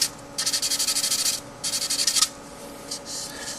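Sandpaper scrubs away pour stubs on a model kit part in two quick bursts of short, rhythmic back-and-forth strokes, close and fairly loud, then a lighter pass near the end.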